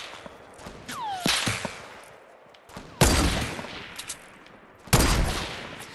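Semi-automatic rifle shots in a Fortnite sniper shootout, a few sharp separate cracks spaced a couple of seconds apart, loud and close with short tails, no talk over them.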